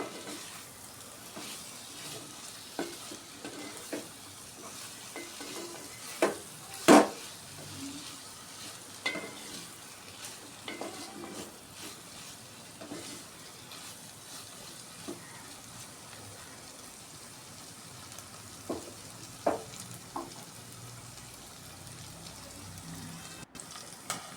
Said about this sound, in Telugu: కొంచెం కారం ఆయిల్లో మక్కనివ్వాలండి ముక్కలకు పట్టుకుని కొంచెం మగ్గితే టేస్ట్ బాగుంటుంది